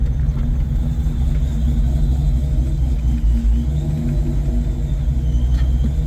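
A supercharged 1995 Mustang GT V8 with a T56 gearbox idles in a driveway, a loud, steady low rumble with a slight uneven lope that holds constant throughout.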